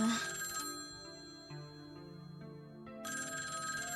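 An old black telephone in the video game Tokyo Babel rings with a loud, shrill electronic tone that fills the space continuously, its pitch shifting partway through, with no talking over it.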